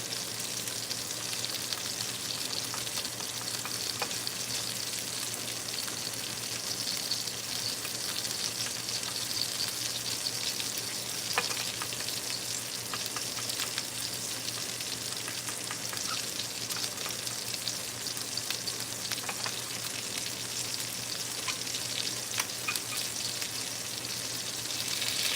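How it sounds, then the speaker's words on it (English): Hamburger steak frying in a pan, a steady broadband sizzle that runs unbroken and fairly loud throughout, with faint scraping clicks from a skewer stirring the pan and no voices. "I'm going to pick up one of these skewers here and just give it a stir."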